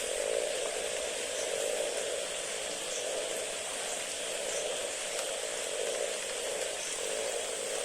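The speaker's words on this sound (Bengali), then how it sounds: "বৃষ্টি।" Rain falling on a village pond on a rainy day, a steady even hiss of drops on water, soft and continuous without voices.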